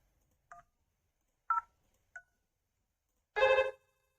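Four DTMF keypad tones from a Cisco IP phone on a VoIP network: three short spaced beeps, then a longer, louder tone, clear and alone in a quiet room.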